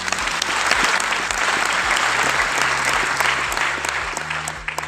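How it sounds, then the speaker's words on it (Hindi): Audience applause at a Glaze 19th anniversary company meeting in Delhi, a dense, steady round of clapping from a large indoor crowd for Pradeep, lasting throughout and fading slightly at the end, with a low tonal hum underneath. "प्रदीप जी के लिए तालियां"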